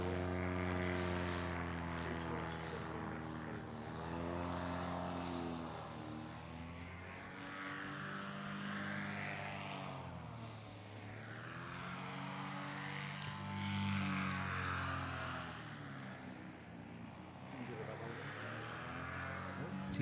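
A paramotor at the FAI World Paramotor Slalom Championships buzzing through a slalom turn, its small propeller engine droning with rising and falling pitch as it swings past, under a commentator's voice.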